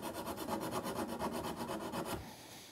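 Hand tool rasping wood to square out a hole for a carriage bolt, a fast, steady back-and-forth scraping rhythm, close and continuous, stopping near the end.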